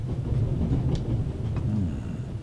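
Low rumbling rattle of a moving rail carriage in the video game The Raven Remastered, steady and continuous, with a couple of faint metallic clicks.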